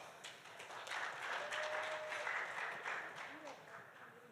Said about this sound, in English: Please give applause to all of us.